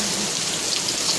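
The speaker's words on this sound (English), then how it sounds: "Look at all that rain." Steady rain pours down on a rainy day, a dense continuous hiss of drops hitting surfaces close by, loud and unbroken, with no voices.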